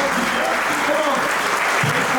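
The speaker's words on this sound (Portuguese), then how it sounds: "Então você pode aplaudir o Senhor com uma expressão de gratidão." A church congregation applauds with steady, dense clapping for a couple of seconds, heard under a voice speaking.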